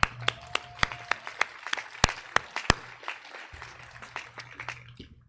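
Scattered claps from an audience at an 8th grade promotion ceremony, sharp separate hand claps spread unevenly across a few seconds over a low room hum, thinning out toward the end.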